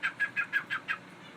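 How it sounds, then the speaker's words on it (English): A pet bird gives six quick, evenly spaced high calls in a row, close and clear, then stops. "My bird sounds like a dog."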